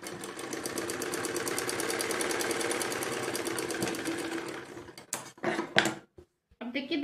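A sewing machine runs steadily for about five seconds with a rapid, even stitching rhythm while baby frock pieces are sewn, then stops, leaving a few short clicks and handling noises.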